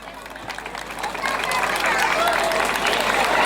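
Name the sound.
festival crowd applauding a beauty contest winner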